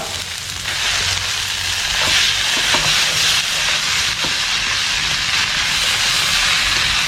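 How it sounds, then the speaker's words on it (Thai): Vegetable spring roll filling stir-fried in a pan over high heat, a loud, steady broadband sizzle and hiss throughout with faint clatter, no talking. "แล้วก็มาเร่งไฟเลยครับ ผัดซ้ำนะครับ"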